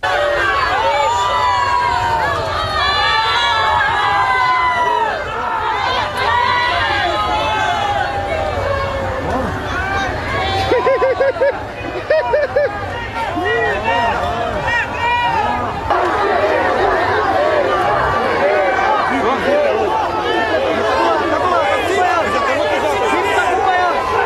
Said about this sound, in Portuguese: tem gente gritando mito, tem gente vaiando